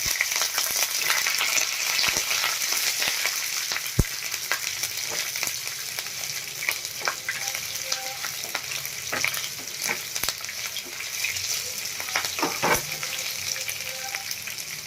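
Curry leaves, green chillies and grated ginger fry in hot oil in a pan for South Indian lemon rice, with a steady loud sizzle throughout and occasional scrapes and knocks of stirring.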